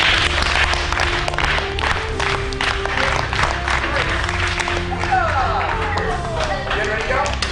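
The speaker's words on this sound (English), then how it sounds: "Ready? Clap." A small group claps together at a jiu-jitsu black belt test, a run of sharp, rhythmic claps over several seconds with voices and movement in the room around them.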